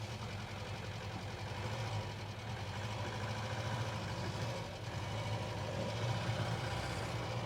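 An old barn-find car's engine runs steadily on its first drive in over ten years, a loud continuous low rumble with a slightly rough, knocking edge throughout, with no brakes working.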